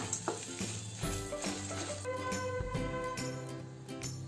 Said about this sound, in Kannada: ಸ್ವಲ್ಪ ಕರಿಬೇವಿನ ಸೊಪ್ಪು ಹಾಕ್ತಾ ಇದ್ದೀನಿ ಇದನ್ನು ಹುರ್ಕೊಂಡು ಇದನ್ನು ತೆಗೆದಿಟ್ಕೊಂಡ್ಬಿಡೋಣ